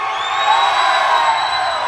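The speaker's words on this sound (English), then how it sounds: "Got guys over here screaming from Dobbins Air Force Base." A crowd of military men from an air force base screams and cheers at an outdoor amphitheater rock festival, a loud sustained roar with whoops and shouts.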